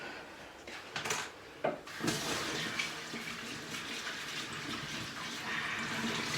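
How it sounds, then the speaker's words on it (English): A cloth rinsed under a running kitchen tap while cleaning up after baking a chocolate cake, steady close water flow with a few splashes and knocks at the start. "rinsing cloth"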